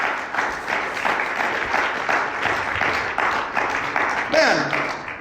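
A church congregation claps together during a worship service, broad steady applause with a voice calling out over it and a brief rising tone near the end.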